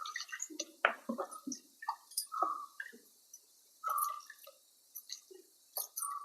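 A little water splashes and drips while something is rinsed in the kitchen during preparation of uluva pulingari, heard as soft, sporadic drips and sloshes, close and faint.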